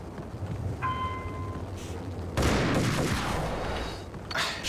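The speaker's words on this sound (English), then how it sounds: "Shotgun shots aren't what they used to be." Shotgun fire in the Max Payne video game, with a heavy, close blast that rolls into a rattling burst and a faint tail, followed by a brief second report at the very end.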